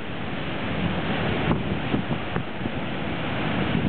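Strong gusts of over 40 mph batter an outdoor microphone as a constant, loud roaring rumble. It swells slightly in places and holds without letup.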